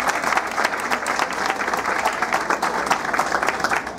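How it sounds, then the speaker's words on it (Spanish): A crowd at a symphonic band concert applauds a doctor being honored, a loud continuous wash of clapping with distinct claps pulsing through it. "Doctor, a ustedes un gran aplauso."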